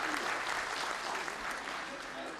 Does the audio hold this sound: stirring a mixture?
no